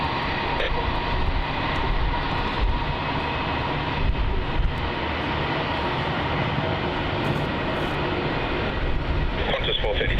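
A jet airliner roars on its takeoff run on runway 27 at Melbourne Airport, a loud, steady, broad engine rumble heard from a spotting position, with radio chatter from air traffic control mixed in.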